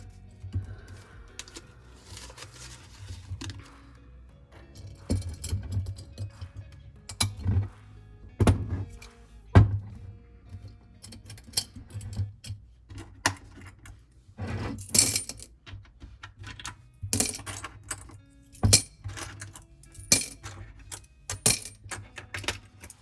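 Pennies dropped and poured into jars during a penny-savings count, heard as scattered clinks, thunks and brief rattling bursts with quiet pauses between them, close and sharp.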